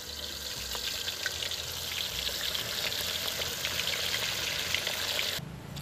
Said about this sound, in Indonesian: Sekarang tinggal kita goreng.